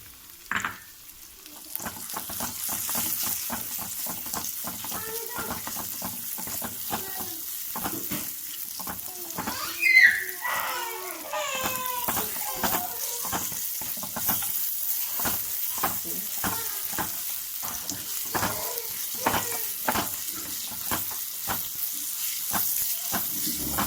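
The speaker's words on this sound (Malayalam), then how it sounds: "നമ്മുടെ അണ്ടിപ്പരിപ്പ് ഇവിടെ റോസ്റ്റായി ഒടുങ്ങി. നമുക്ക് അതിലേക്ക് നമ്മുടെ മുന്തിരി ഇട്ട് കൊടുക്കാം." Cashews and raisins fry in hot oil for a chicken biryani, giving a continuous close sizzle broken by regular scraping stirs and one louder burst of spitting partway through.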